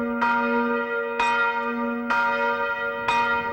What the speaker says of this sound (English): a bell tower stands guard over the village cemetery,